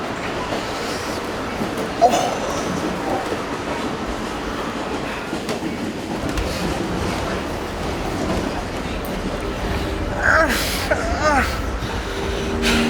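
AirTrain running to JFK airport in New York, a steady rumbling rail ride with rattling carriage noise and a brief squeal near the end, voices and background chatter faintly mixed in.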